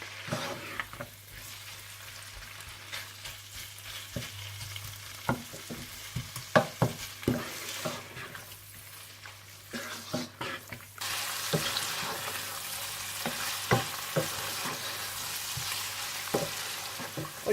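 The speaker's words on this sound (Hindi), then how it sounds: "कुटी हुई काली मिर्चें, नमक और चिकन क्यूब डालकर अच्छी तरह से भून लें।" Chicken frying in a pan with crushed black pepper, salt and a chicken cube, giving a steady soft sizzle with scattered clicks and scraping stir sounds, growing louder and hissier partway through.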